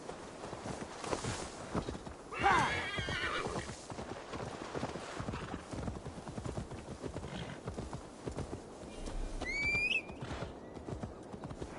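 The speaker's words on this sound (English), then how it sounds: "Now to deliver Magni his horse" Hooves clip-clop steadily on the ground as a horse walks in Assassin's Creed Valhalla, with a bright whinny early on and a second neigh near the end, both heard over a soft ambient bed.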